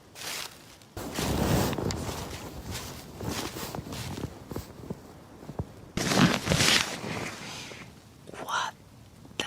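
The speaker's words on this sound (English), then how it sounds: "I just heard footsteps." Footsteps at night near a haunted ruin, a series of close crunching steps with rustling and movement noise, loud bursts between quieter stretches, and low whispering voices.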